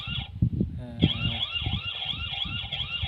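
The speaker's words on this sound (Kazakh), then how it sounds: "Сиренаны қосам, фонарикті қосам, фонарикті қосылады, сиренады қосылады." A toy camera's electronic siren wails close by, a steady warbling cycle of rising and falling tones that starts after a brief burst of noise and runs to the end.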